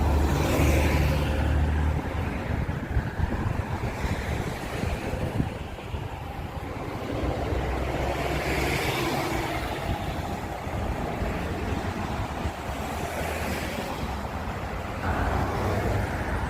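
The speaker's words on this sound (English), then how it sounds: "I further walk down and I think our bus is coming in." Transperth 705 bus pulling in to a stop near Fremantle, a steady engine rumble and road noise rising and falling as it approaches, with wind buffeting the microphone.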